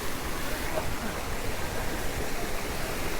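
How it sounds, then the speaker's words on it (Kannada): Water flows steadily at Tiger waterfalls, a dense, even rushing roar that fills the scene without pause. "ಎಲ್ಲ ನೋಡಿ ನೀರು ಹರಿಯುತ್ತೆ, ನಿಲ್ಸಕ್ಕೆ ಆಗ್ತಿಲ್ಲ."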